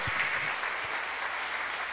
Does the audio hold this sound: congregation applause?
yes